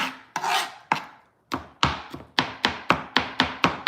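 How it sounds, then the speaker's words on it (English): Knife chopping on a cutting board while making meatless spaghetti, sharp close thunks that start sparse and settle into a fast, steady rhythm of about a dozen strokes, with no voice. "I apologize for all this chopping, y'all."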